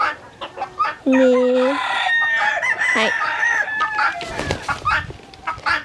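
Chickens of a breed that tolerates cold, kept in winter Hawaii, cluck and squawk up close in a busy run of calls, with brief speech mixed in.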